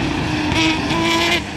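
A Nissan 350Z rallycross car racing on track at Dreux, a loud steady engine drone held at high revs that swells slightly midway, heard from trackside.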